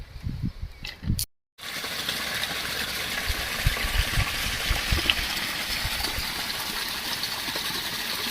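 Irrigation water gushes steadily into a banana plantation field beside a stream, a continuous close rushing flow after a brief cut, with faint background noise.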